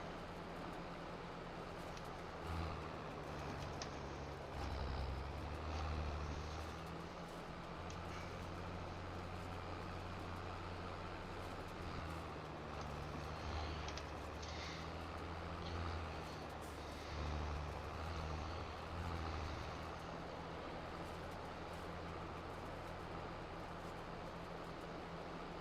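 A tractor in the farming game Farming Simulator 22 drives steadily, its low engine drone continuous and fairly quiet throughout, with no talk.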